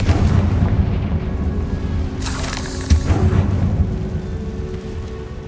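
A Confringo fire-blast spell in the Hogwarts Legacy game on PS5 goes off with a deep booming burst and a crackling blast over a low rumbling backdrop, one clear hit near the middle.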